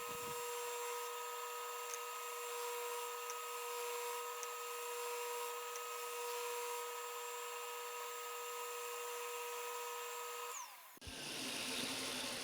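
A drum sander steadily sands epoxy resin and wood with a constant whining motor hum and grinding texture, nearby and unbroken until it shifts abruptly near the end.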